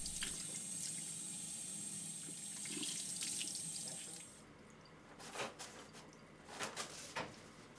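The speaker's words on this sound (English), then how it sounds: "Rinse hands well under clean running water at a comfortable temperature" Clean tap water runs steadily into a sink while hands are rinsed beneath it, a continuous close hiss for about four seconds before it drops away to quieter splashes and drips.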